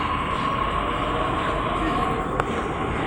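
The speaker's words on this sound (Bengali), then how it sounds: "এই যে ট্রেন একটা ছেড়ে গেল" A Delhi Metro train pulling out of Kashmiri Gate station, a steady loud rumble and hum of rolling wagons filling the platform, with crowd noise underneath.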